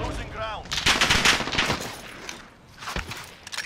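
Rapid bursts of gunfire from a shooter video game crackle loud and near, pausing briefly before more shots resume amid the match's ambient noise.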